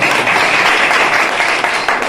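An audience at a motivational talk applauds together, a dense, even wash of many hands clapping at close range that holds steady for a couple of seconds with no voice over it.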